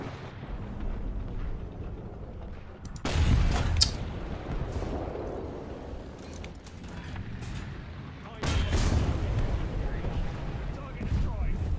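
A tank cannon fires in the War Thunder video game, giving two heavy booming blasts a few seconds apart over a rumbling engine while a player talks throughout.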